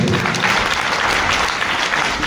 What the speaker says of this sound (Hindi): मैं बात कर रहा हूं अमित दुबे सर, मैं चाहता हूं इनके लिए जोरदार तालियां होनी चाहिए